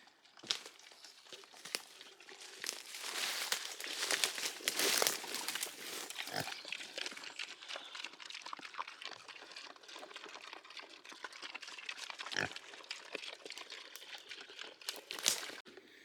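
Pigs snuffling and grunting close by, with wet squelching and rustling throughout and a few louder snorts, no talking.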